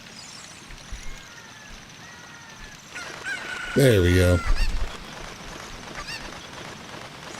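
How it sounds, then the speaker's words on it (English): A cucco chicken in The Legend of Zelda: Ocarina of Time lets out a loud burst of squawking clucks over game background music, and someone speaks briefly. "Dude, that chicken just abandoned me."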